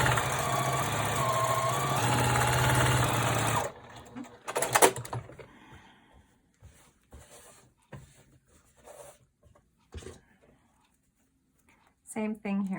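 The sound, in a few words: sewing machine sewing a quilt block seam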